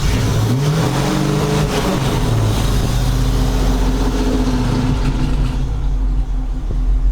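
An LT1-swapped car engine idles rich, giving a steady, loud, close low rumble with a faint rhythmic lope and no break or pause throughout.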